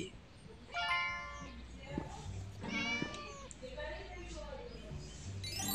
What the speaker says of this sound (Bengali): এবার প্রথমে উপরে যাই ভাই বিড়ালে আওয়াজ শোনা যাচ্ছে